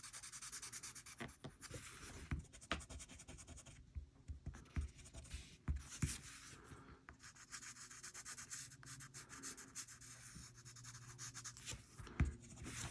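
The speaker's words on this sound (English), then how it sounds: "Use the side of my pencil." Graphite pencil rubbed sideways across paper while shading a drawing, a continuous soft scratchy rasp with repeated back-and-forth strokes and occasional sharper ticks, close and quiet, with no talking.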